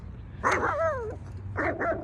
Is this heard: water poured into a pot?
no